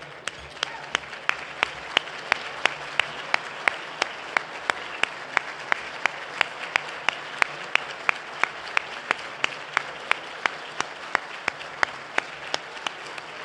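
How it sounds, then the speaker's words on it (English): A luncheon crowd applauds people standing in recognition, a steady wash of clapping with one nearby pair of hands striking a sharp, regular beat throughout. "you deserve a huge round of applause"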